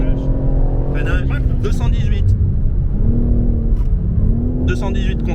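A BMW M4 Competition G82 brakes on the Le Mans Bugatti circuit, engine droning loudly from inside the cabin with downshift blips and shifting revs, while a voice talks over it.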